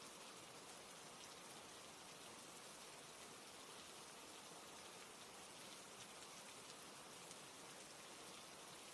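Steady rain pouring down as a dense, even patter of drops on surfaces, soft and continuous throughout with no other sounds.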